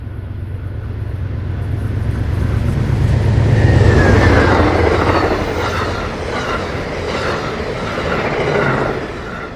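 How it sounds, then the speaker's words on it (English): Amtrak train 42 on the Keystone Corridor rounds a curve beneath a farm overpass, passing close and loud with rumbling wheels, rhythmic clickety-clack and rising metallic flange squeal throughout. "42 rounds the curve under the last remaining farm overpass along the line."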